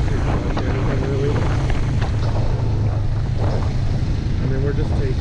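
Royal Enfield Himalayan and Classic 350 motorcycles on a ride, with steady loud wind roar buffeting the microphone over a low engine drone, and a person talking faintly underneath.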